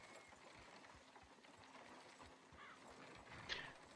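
Horse and cart on a road, hooves clip-clopping in a steady, soft rhythm at a moderate distance, quiet and unhurried, with a faint background hum.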